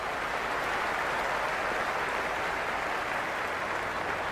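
Steady crowd roar and applause fill a cricket stadium during a friendly T10 match in the Cricket 26 video game, a dense continuous wash of clapping and cheering that holds at an even level throughout.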